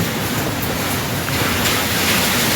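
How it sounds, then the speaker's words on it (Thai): Steady rain falling outdoors, a dense, continuous broadband hiss that stays loud and even throughout with no voices over it. "นี่ค่ะทุกคนฝนตก"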